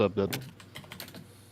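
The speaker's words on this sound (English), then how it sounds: "He's typing very, very aggressively right now." Rapid, forceful clacking on a computer keyboard, a dense burst of sharp key strikes that starts loud and carries on irregularly, with a bit of voice at the very start.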